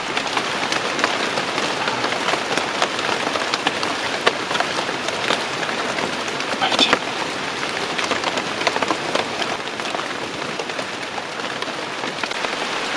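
Heavy rain in Suriname's wilds pattering loudly and densely on nearby surfaces, a constant roar of drops with occasional sharper splashes.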